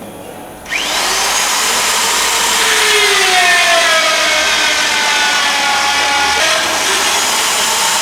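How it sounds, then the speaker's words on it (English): A power drill bites into screws to drill their heads off during restoration work on the Lancaster bomber NX611. A loud, close, high whine starts abruptly and runs continuously for several seconds, its pitch wavering as the bit cuts. "So just drill the heads off the screw"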